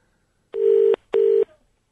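Two telephone dialing tones from a mobile call, each a steady electronic beep about half a second long with a short gap between, clear and alone.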